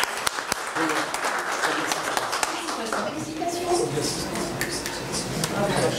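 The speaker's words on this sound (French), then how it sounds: "On applaudit très fort Madame Boukhris" An audience applauds at a DELF diploma ceremony for students, with a few sharp individual claps at the start before the clapping thickens into a continuous patter, and voices murmur underneath.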